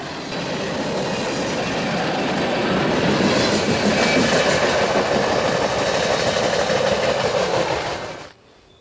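A Union Pacific freight train rumbles past in cold winter weather with a steady clattering roar that swells, holds for several seconds, then cuts off.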